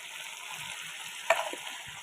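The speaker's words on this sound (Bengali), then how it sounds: "তো চলো একটু ভালো করে এটা ভেজে নিই" Chicken pieces fry in plenty of oil with chili powder, giving a faint, steady sizzle and one short sharp crackle partway through.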